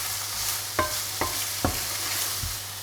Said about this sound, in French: Allez, on mélange tout ça pour bien que tous les parfums se mélangent.